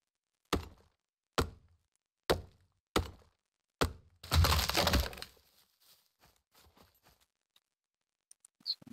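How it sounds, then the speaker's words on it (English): Foundation pieces being destroyed in a base-building video game: five sharp, evenly spaced thunks, then a louder crumbling crash about a second long, followed by faint scattered clicks. "destroy the foundations"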